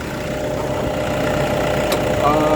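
A 2012 Toyota Innova V diesel automatic engine runs at a steady idle, giving an even, continuous low rumble heard close and moderately loud.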